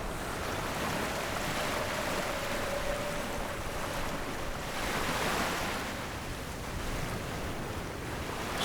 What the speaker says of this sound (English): Here we are now, you know, fighting the wind and the waves and the ocean spray and the salt.